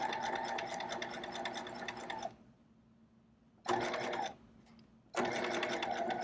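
A sewing machine stitches an inseam buttonhole in two steady bursts of rapid mechanical whirring, broken by pauses in which only a faint hum and brief light clicks remain.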